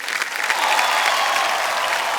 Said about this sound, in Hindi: एक बार फिर तालियां बज जाए इनके लिए जोरदार।